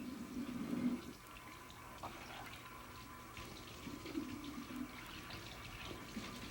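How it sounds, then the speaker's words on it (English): A firefighter's facepiece assembly is rinsed under running water in a deep sink, giving a quiet, steady wash of flowing water with small splashes and knocks throughout. "he takes the facepiece assembly to the deep sink and starts with a rinse to remove large particles of debris"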